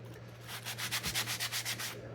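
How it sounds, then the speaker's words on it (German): Hand sanding of a wooden snowflake's faces and edges with a soft sanding sponge gives a rapid series of about ten rhythmic rasping strokes, close and moderately loud, with no talk. "Und jetzt tue ich einfach noch mal die Flächen ein bisschen schleifen und außenrum die Kanten."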